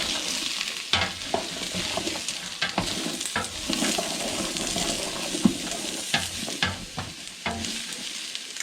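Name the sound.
stirring onions sweating in a pan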